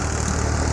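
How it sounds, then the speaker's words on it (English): A little grey Massey Ferguson TE20 tractor engine idles with a steady, close, low rumble that holds an even level throughout the short stretch. "The little grey Massey Ferguson tractor that fitted nicely between"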